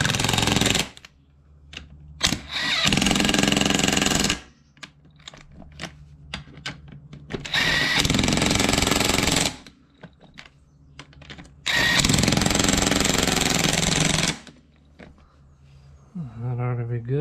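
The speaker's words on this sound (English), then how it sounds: "Let's tighten these lugs." An impact wrench tightens wheel lug nuts on a Can-Am Outlander ATV being fitted with new tires, three loud, close bursts of rattling hammering separated by quieter gaps with clanks and handling noise.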